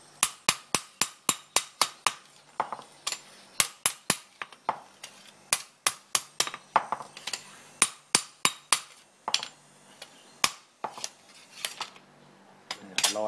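Repeated sharp metallic hammer strikes stamping a brand mark into a steel knife blade at a traditional forge in Chiang Mai, northern Thailand; loud, close, ringing blows in quick rhythmic bursts with brief pauses, no talk.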